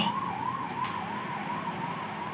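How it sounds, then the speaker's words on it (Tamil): An ambulance siren wailing in a steady rising-and-falling cycle, heard from some distance over low background rumble. "ஆம்புலன்ஸ் சவுண்ட் நல்லா கேட்குதுடா"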